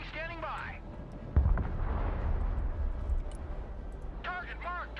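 Artillery in the Broken Arrow modern-warfare strategy game fires once as a heavy boom, and a rolling rumble trails off for several seconds. Speech comes over the radio before and after the shot.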